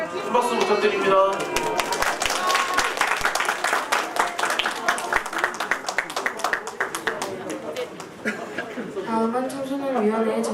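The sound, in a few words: audience applause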